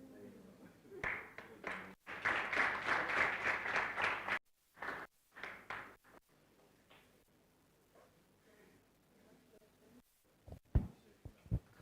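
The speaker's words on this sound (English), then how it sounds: "So we can clap for their seats." Audience applause at an inter-university constitutional law moot court competition, a sustained burst of clapping that thins into scattered claps, with some speech near the end.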